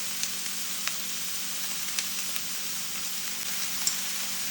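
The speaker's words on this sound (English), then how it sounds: "We're gonna saute these vegetables until they're soft and they start to caramelize a little bit" Vegetables for a veggie lasagna saute in a pan with a steady, even sizzling hiss and a few faint ticks and pops, heard alone with no talking.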